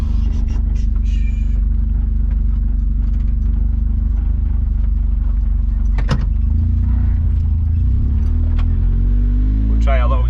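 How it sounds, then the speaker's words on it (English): A 1987 Honda Acty with a splitter pulling slowly out of a car park, its small engine droning loud and steady from inside the cabin, with a few clicks and knocks and a rising rev at the end, while someone talks. "We're going to try and get out of this car park without ripping the splitter off again."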